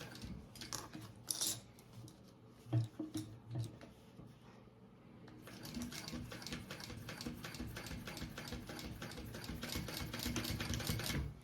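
Sewing machine stitching a buckle onto a fabric waist bag: a few short mechanical bursts, then a sustained steady whirring run in the second half, close and moderately loud.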